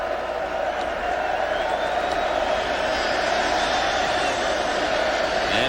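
A stadium crowd at a 1992 Phoenix Cardinals at Tampa Bay Buccaneers football game roars steadily at Cardinals player Chandler, a loud, sustained wash of cheers and jeers with faint whistles rising through it.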